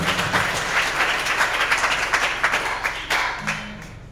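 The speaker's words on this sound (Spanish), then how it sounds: "Hay unos aplausos" A church congregation applauds during a sermon, producing dense, steady clapping with a low hum beneath it and a brief tonal sound near the end.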